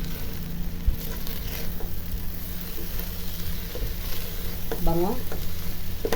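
Arroz caldo made with glutinous rice is stirred in a pot, a steady wet scraping and bubbling simmer with brief spoken words over it.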